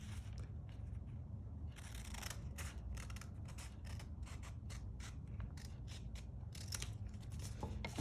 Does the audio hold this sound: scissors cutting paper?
yes